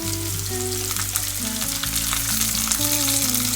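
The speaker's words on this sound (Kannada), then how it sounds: "ಇವಾಗ ಈರುಳ್ಳಿ ಹಾಕ್ತಾ ಇದ್ದೀನಿ." A large onion fries in hot oil with cumin for chole, producing a loud, continuous close sizzle and crackle under soft background music, with no one talking.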